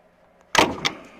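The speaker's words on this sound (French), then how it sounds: "on passe un pied de biche derrière là et on fait comme ça" A crowbar prying out an engine mount part on a Renault Scenic 2 with the 1.9 dCi 120 hp F9Q engine: after a quiet moment, one sharp metallic pop as the part breaks free, then a smaller knock just after.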